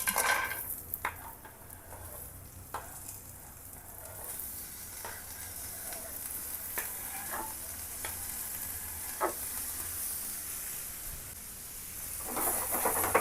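Ingredients sizzle in a hot pan with a soft continuous hiss, punctuated by several sharp scrapes and knocks of stirring, close by and fairly quiet.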